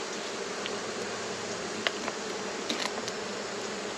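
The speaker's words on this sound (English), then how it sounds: "Every bee in the hive is trying to kill me." Honey bees buzz in a steady, dense drone around an opened hive during a honey harvest, with a few sharper, closer buzzes passing near.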